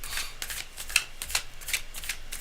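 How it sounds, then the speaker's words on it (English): Tarot cards shuffled by hand during a live reading, a rapid run of crisp papery riffles and flicks repeating in quick bursts, close and fairly quiet with no voices. "I've been shuffling for quite a while, but I like things to be really pristine"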